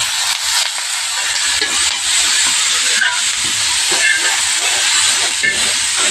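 Bitter gourd frying in oil in a home kitchen, giving a steady, close hiss of sizzling throughout with no pauses.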